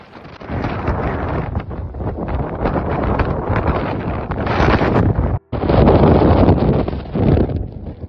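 Storm Arwen in the UK, with gusts near 160 km per hour: continuous loud roaring wind buffets the microphone, broken by one brief dropout before the heavy rumble resumes.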